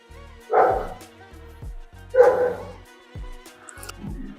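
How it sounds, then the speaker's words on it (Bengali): An American line Doberman gives two loud, deep barks about a second and a half apart, close by, followed by quieter huffs and yips in an otherwise quiet indoor space. "ভীমা এটা ডোবারম্যান আমেরিকান লাইন ডগ, ঠিক আছে।"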